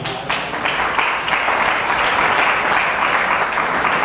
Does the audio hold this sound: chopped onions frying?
no